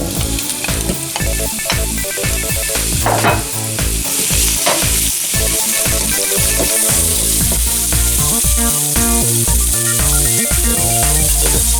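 Thin-sliced pork belly sizzles loudly in a hot pan, a dense continuous crackle broken by the clatter and scrape of stirring utensils close up.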